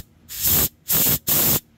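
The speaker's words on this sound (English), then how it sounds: "you'll see it spray out the other side" Compressed air blasting through a Linhai M150 carburetor jet, three loud hissing bursts in quick succession, close and alone with brief pauses between them.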